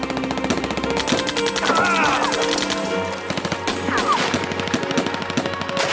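Rapid gunfire in a movie shootout between police and a gang, with bursts of shots and crashes under a dense action soundtrack of music and effects, loud and continuous throughout.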